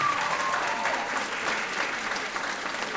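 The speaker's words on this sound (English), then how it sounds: "If you would give him a round of applause, please." A middle school concert audience in an auditorium gives steady, even applause that carries on without a break, and a brief whistle rises over it at the start.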